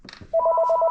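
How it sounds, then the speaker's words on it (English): A telephone rings with a steady electronic trill, loud and close, starting abruptly after a moment of faint background sound and continuing evenly. "Oh, there's the phone right there."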